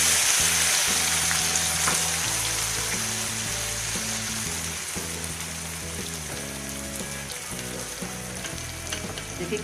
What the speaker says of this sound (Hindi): देखिए कितने प्यारे फ्राई हो रहे हैं